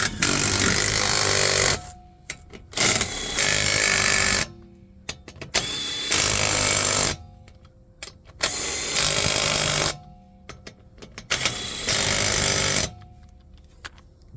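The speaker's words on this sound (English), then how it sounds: "This is a power tool. It's a great snap-on tool." A Snap-on power tool runs in several bursts of about one to two seconds, loud, rattling and hammering, as it tightens lug nuts on a 2019 Ford Transit 250 wheel, with short quiet gaps between.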